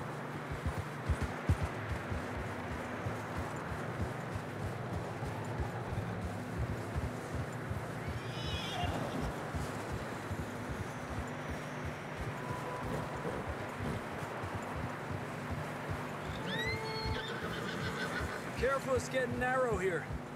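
Horse hooves plod steadily through fresh snow on a narrow trail in Red Dead Redemption 2, with a couple of whinnies near the end over a constant wind-like bed and occasional voices.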